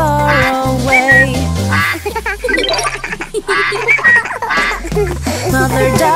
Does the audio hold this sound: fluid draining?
no